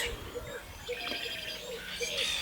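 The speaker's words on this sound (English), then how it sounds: "As you can hear the birds, it's really kind of peaceful out here today." Faint birds chirp outdoors in a spring garden in short repeated calls, soft and somewhat distant, over quiet background noise.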